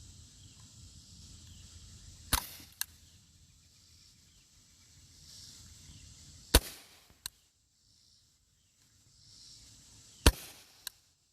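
Umarex Walther PPQ M2 air pistol firing RWS R10 Match 7-grain wadcutter pellets, three sharp snapping shots spaced several seconds apart, each followed by a faint second click, in a quiet indoor setting.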